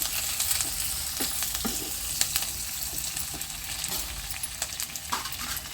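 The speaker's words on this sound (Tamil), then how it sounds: "இப்போ கருவேப்பிலை சேர்த்து வதக்கிக்கலாம்" Onions and curry leaves sautéing in hot oil for a village-style cumin kuzhambu, a continuous close sizzle broken by scrapes and clatters of stirring.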